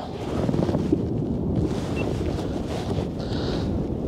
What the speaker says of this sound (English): this is a pretty windy day